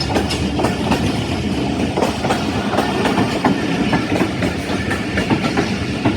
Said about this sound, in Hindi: अब जी इसकी ब्रेक लगनी स्टार्ट हो गई है।